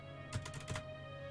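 Computer keyboard keys pressed in a few quick close taps, faint and sharp over a steady low electrical hum, with no talking.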